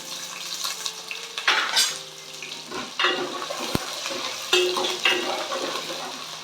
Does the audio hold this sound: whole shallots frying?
yes